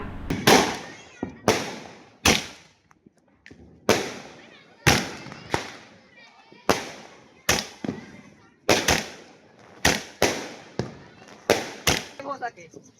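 Fireworks and firecrackers burst during Diwali celebrations, a string of about a dozen sharp, loud cracks and bangs at irregular intervals, some close together, with voices faintly in the background.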